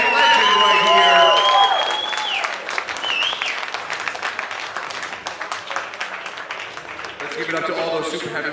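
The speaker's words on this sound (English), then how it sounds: "Give him a big round of applause." Crowd applause at an amateur boxing qualifier event, fast dense clapping of many hands, mixed with loud amplified speech and whistling tones early on, then thinning into scattered claps before swelling again.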